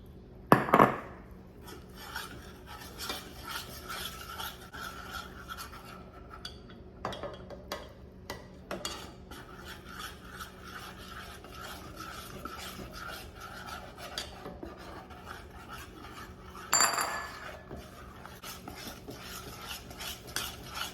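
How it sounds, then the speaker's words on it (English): Sheetcake icing made with powdered sugar is stirred by hand in a pot with a utensil, making quiet, steady scraping and rubbing sounds. A few louder clatters break in near the start and again later. "Since I don't have a handheld mixer, I'll just have to stir it until it's where I want it to be"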